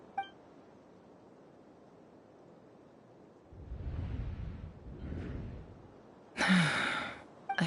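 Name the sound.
character gasping in video game Genshin Impact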